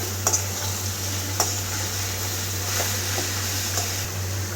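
Cabbage sizzles in hot oil with broken dried red chillies, a steady close hiss with a few faint clicks from the pan, over a low electrical hum and no talking.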